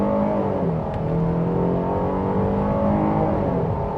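A 2025 Jeep Grand Cherokee Limited two-wheel drive accelerates hard, its engine note rising in a steady, loud, continuous drone heard from inside the cabin, with no talking.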